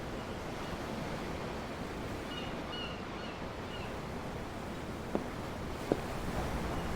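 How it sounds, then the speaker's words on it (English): Ocean waves in a fantasy role-playing game heard from a ship at sea, a soft continuous wash of surf with wind, fairly faint, with a couple of small knocks near the end. "I'm looking at the ocean. The ocean? Yeah. The waves."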